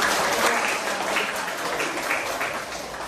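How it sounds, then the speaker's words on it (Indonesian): A classroom of students applauds together, a dense, steady patter of many hands clapping close by for the full stretch with no voices over it. "Tepuk tangan untuk kelas."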